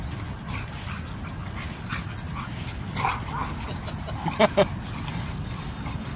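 Several large black dogs yip and whimper nearby, a couple of short sharp barks standing out near the middle over steady outdoor background noise.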